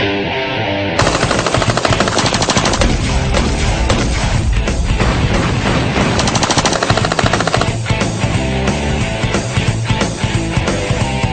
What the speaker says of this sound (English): 30 rounds, fully automatic.